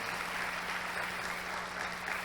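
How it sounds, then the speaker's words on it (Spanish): An audience at a church gathering claps steadily in dense, sustained applause, an even wash of many hands with no voices standing out. "pido que le dé un aplauso a mi madre, la mujer que más admiro en mi vida"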